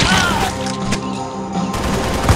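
Rapid bursts of gunfire in a Call of Duty Ghosts stop-motion action scene, with sharp cracks and booms close up and loud throughout.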